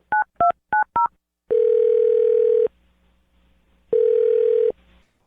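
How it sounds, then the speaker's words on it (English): Four quick keypad tones in a row, then two long steady ringing tones separated by a pause, clear and close. "I'm going to dial her phone number right now"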